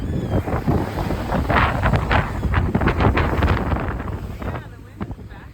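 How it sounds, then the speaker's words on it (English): Strong wind buffets a sailboat at sea at night off Central America, roaring and gusting loudly against the microphone with a rushing wash of waves beneath. "the wind and the waves increased a lot"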